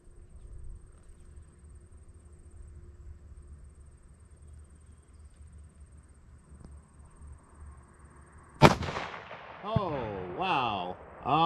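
A 6.5 Grendel rifle shot rings out at a 300-yard target, a single sharp crack followed by a rolling echo that fades into the distance, after a quiet stretch of faint background hum.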